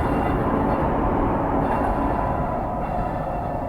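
The Coromandel Superfast Express passing close by, a loud continuous roar of rolling coaches and rumbling wheels on the rails that holds steady throughout with no voices.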